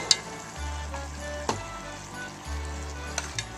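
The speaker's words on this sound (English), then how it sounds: "I'm going to add a whole small can of tomato paste. I'll brown it just a little bit." A small can of tomato paste browns in a pan for American chop suey, sizzling and frying steadily up close, with occasional stirring scrapes and light utensil knocks; no voices.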